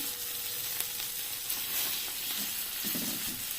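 Spinach fries in a pan with a faint, even sizzling hiss and a few light stirring scrapes toward the end, quiet and close, with no talking.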